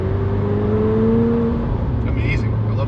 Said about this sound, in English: I love the turbo whistle.